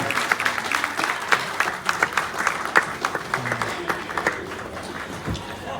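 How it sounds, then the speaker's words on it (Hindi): A stage audience at a Kargil Vijay Diwas event breaks into continuous, lively applause welcoming guests onto the stage, many hands clapping in a dense, steady patter lasting several seconds. "उनके स्वागत के लिए जोरदार तालियां प्लीज"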